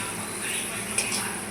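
Sandesh mixture being stirred in a kadai over a low gas flame, with soft scraping and a couple of light metallic clicks from the spoon against the pan, quiet and close.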